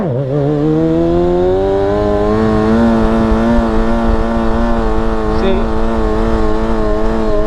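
A Kawasaki 636 stunt motorcycle engine revs up and holds a steady, loud, buzzy high drone as the bike rides off, close and continuous with no talk.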